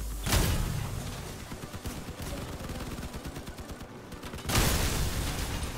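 Rapid automatic gunfire crackles continuously in the vehicle combat video game Crossout, with heavier booming shots at the start and near the end, loud and close, and no talk over it.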